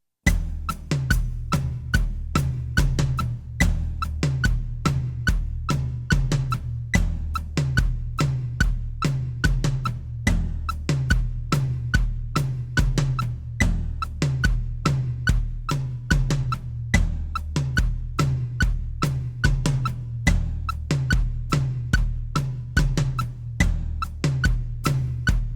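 A drum kit plays the groove for a worship song, a steady, continuous pattern of crisp hits over a low, pulsing kick, close and unaccompanied for about twenty-five seconds without speech.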